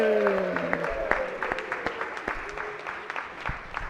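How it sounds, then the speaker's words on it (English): A legislative chamber applauds a senator's birthday, a brisk round of clapping that follows brief talk at the start and gradually thins out. "If you give him a round of applause."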